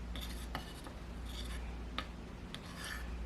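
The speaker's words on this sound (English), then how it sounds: "I'm going to mix everything in a spoon" A spoon scrapes and stirs quietly through a small batch of room and linen spray ingredients, faint rubbing strokes with a few light clinks against the container at irregular intervals.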